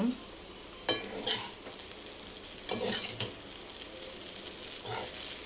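Vegetable noodles are tossed with salt in a hot pan, with a steady sizzle and clear spoon scrapes and clatters recurring every second or so, close up.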